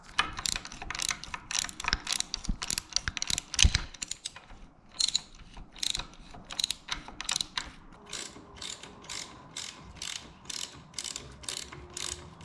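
Ratchet fastening the steering column on a Farmall 460 tractor: repeated rapid clicking strokes in uneven bursts with short pauses, close up, with no talking.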